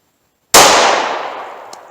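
A single sharp, loud short-barrel pistol shot cracks out after a moment of silence, its report decaying over about a second and a half, with a faint metallic tick afterward.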